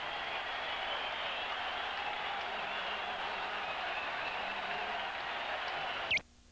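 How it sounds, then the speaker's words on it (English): Crowd at a Toronto Blue Jays baseball game in 1983 roars in a steady, loud, sustained wash of cheering that cuts off abruptly near the end. "Listen to the crowd."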